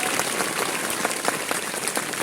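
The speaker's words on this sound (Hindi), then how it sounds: "अब ढेर सारा ताली बजाई भाई।" Applause from a school quiz-show audience, a dense, even patter of many hands clapping with no voices over it.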